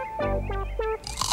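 A single loud crunchy bite into a crisp Vlasic pickle, sharp broadband crackle at close range, following a short stretch of sung jingle tones.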